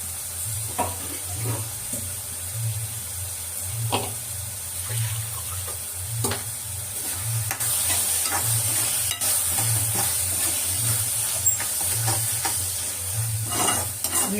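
Ground masala paste of chili, fennel, ginger and garlic sautés in a pan for country-chicken kuzhambu, giving a steady close sizzle with repeated stirring scrapes throughout.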